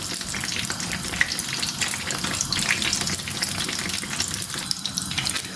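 Brinjal and tomatoes fry in a pan with a steady, dense sizzle and crackle that runs unbroken throughout, close and fairly loud, with faint stirring scrapes and no talking.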